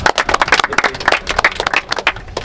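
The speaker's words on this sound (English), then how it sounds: "Everyone clap for Towel." A small football team claps for goalkeeper Towel before an away match, a close group of uneven hand claps in a quick, ragged rhythm.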